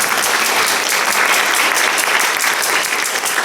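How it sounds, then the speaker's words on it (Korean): A Korean church congregation at a Sunday worship service claps warmly to welcome new members, with dense, sustained applause filling the room from start to finish. "뜨거운 박수로 환영해 주시기 바랍니다"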